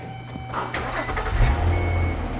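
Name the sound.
car engine starting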